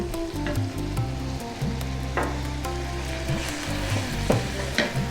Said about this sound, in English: We're going to add the ginger garlic paste.